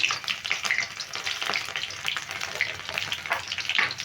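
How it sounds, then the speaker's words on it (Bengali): Whole spices, bay leaf and five-spice, with green chilli crackle and sizzle in hot oil, a steady busy frying hiss with small pops throughout, fairly close. "প্রথমে আমি ফোড়নটা খুব ভালো করে ভেজে নেব"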